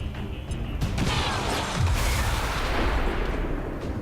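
A car exploding in XCOM 2 Long War 2, a loud rumbling blast with a sustained roaring, crackling wash that lingers for several seconds, no speech over it.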